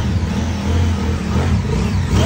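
A 600cc big bike motorcycle, an SRT 600, runs loud and close, its engine holding a steady low throbbing rumble with a slight rise near the end, no speech over it.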